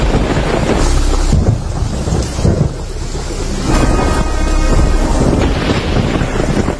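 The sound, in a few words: heavy rain in a forest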